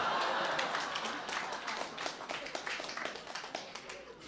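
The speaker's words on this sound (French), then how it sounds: "heureusement qu'on a applaudi avant" An audience at a live stand-up comedy show applauding, a crowd of hands clapping loudly at first and then gradually thinning and fading over several seconds, with voices faintly underneath.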